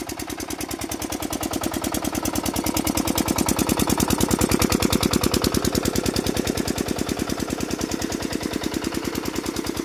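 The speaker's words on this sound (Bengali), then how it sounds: "মেশিনের ঠক ঠক ঠক ঠক আওয়াজ" A machine thumps near a rice paddy field with a fast, relentless knocking beat, loud and close. The regular pulses run without a break for the whole stretch and no voices are heard.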